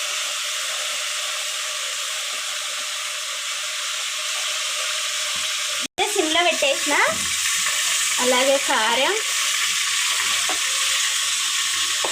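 Pieces of bony, fatty mutton sizzle steadily in hot oil in a home kitchen, a constant close frying hiss, with stirring and scraping sounds joining partway through.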